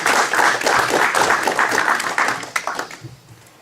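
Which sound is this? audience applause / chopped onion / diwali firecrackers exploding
audience applause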